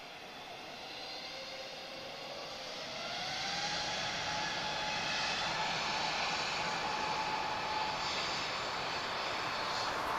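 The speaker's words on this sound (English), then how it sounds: "She's off to Dusseldorf. One of my favourite liveries, Eurowings. This is an A320 Neo." Eurowings Airbus A320neo jet departing for Dusseldorf from Lisbon Airport, a distant engine roar swelling louder after a few seconds with rising whining tones, sustained and alone.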